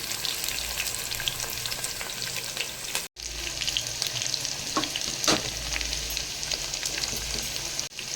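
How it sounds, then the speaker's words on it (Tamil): Onions and curry leaves sauté in a pan with a dense, continuous sizzle, close up and moderately loud, and occasional scrapes of a spoon stirring through them. "வெங்காயமும் கருவேப்பிலையும் சேர்த்து நல்லா வதக்கி விட்டுருங்க"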